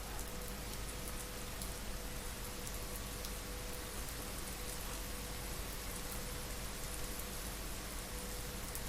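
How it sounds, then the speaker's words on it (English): Steady rain in the X-Plane 11 flight simulator hisses as an even, soft wash of drops with no breaks, heard from inside a Zibo 737 cockpit on a flight from Gatwick to Cardiff. "You can hear the rain, that's lovely."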